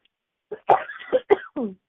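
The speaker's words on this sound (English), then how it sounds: "Hang on, I got a cough." A few rough, close coughs in a short burst, loud and harsh, with brief pauses between them and no talking.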